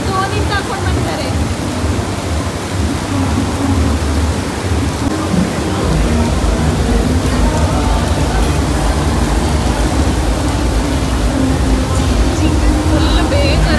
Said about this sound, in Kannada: ಇದು ಮಳೆ ನಿಲ್ಲೋದು ಕಾಣಲ್ಲ